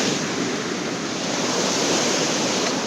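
A mountain waterfall feeds into the Mandakini river on the trek route back from Kedarnath to Sonprayag, making a steady, dense rushing roar that holds unchanged throughout with no voices.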